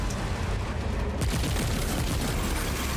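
Gunfire and explosions from the video game Remnant 2, a continuous dense barrage of shots with booming low rumbles that grow heavier midway through, loud throughout with no talking.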